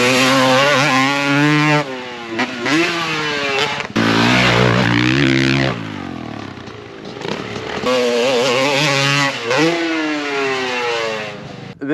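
Supercross dirt bike engine revving hard through repeated rising and falling pitch sweeps, with a loud near buzz, brief drops between throttle bursts and wheel spin as it carves into a turn.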